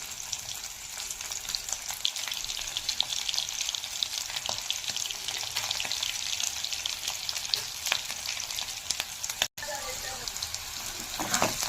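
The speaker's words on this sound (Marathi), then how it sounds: "चांगले फ्राय झालेले आहेत आलू." Boiled potatoes frying in hot oil with red chili and coriander powder, giving a steady, loud, close sizzle with occasional crackles throughout.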